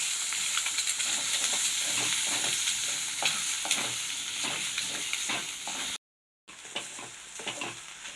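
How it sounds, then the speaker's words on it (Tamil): Capsicum and egg poriyal sizzles in a pan while a spatula stirs it, giving repeated scraping strokes over a constant frying hiss, briefly cut to silence before the sizzling resumes. "அப்புறமா நம்ம அப்படியே கிளறி விட்டுக்கலாம்."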